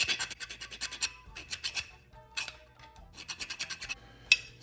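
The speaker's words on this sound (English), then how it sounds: "Got to get a round file and file that hole out a little bit." A round file rasping out a hole in a rear brake part for a 1974 VW Sunbug, repeated quick back-and-forth strokes in bursts with short pauses, close and fairly loud.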